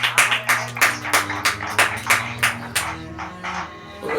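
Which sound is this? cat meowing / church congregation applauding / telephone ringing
church congregation applauding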